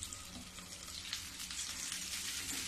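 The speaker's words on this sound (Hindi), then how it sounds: "जो मैं प्याज और लहसुन अदरक सब भून रही हूँ" Onion, garlic and ginger sizzle steadily in a hot pan, a soft continuous frying hiss without speech.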